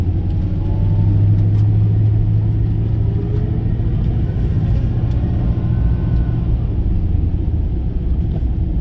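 A car rolls along in traffic, heard from inside as a steady, heavy low rumble of engine and road noise with no clear breaks.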